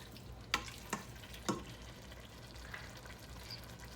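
Celery added to a pot for homemade chili, with a soft continuous sizzle and three sharp spoon clacks against the pot in quick succession, followed by quieter stirring and frying.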